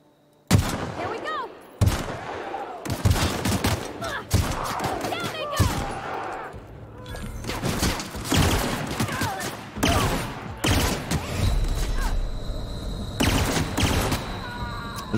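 Gun firing in the game The Outer Worlds, a long run of loud sharp shots in bursts and repeated volleys, close up with game effects between them.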